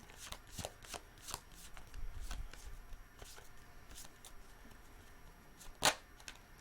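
A deck of tarot cards being shuffled and drawn during a reading, heard close and quiet as a series of soft, irregular riffling snaps and flicks, ending with one sharper slap of a card, with no talking.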